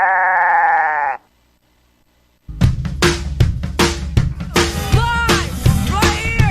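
A goat bleats in a long harmonic cry, then after a short silence a stretch of loud, busy sound with repeated sharp bursts and pitched tones follows.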